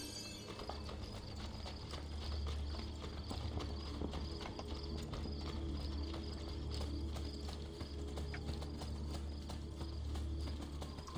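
Horse hooves gallop in Assassin's Creed II, a steady run of clip-clop beats carried over a dense, constant game soundscape at an even loudness throughout.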